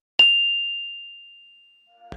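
A single bright bell ding rings out and decays slowly over about two seconds, clear and alone, with a faint new sound starting at the very end.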